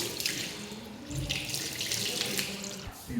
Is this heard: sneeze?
no